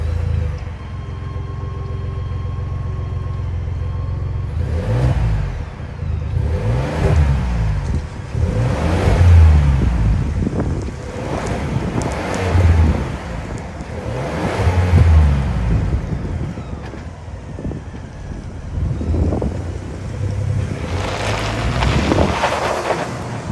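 A high-output 3.5-liter twin-turbo EcoBoost V6 in a 2023 Ford Expedition Limited idles and revs loudly up close, with repeated throttle blips rising and falling over steady engine rumble, no talking.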